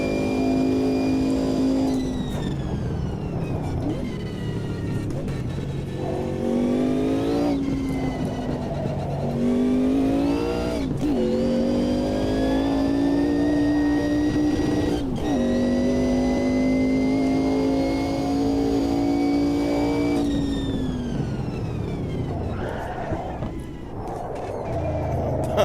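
Race car engine in the sim racing game Automobilista 2, loud and continuous, revving up and down through repeated rising whines with gear shifts and braking into corners, no talk over it.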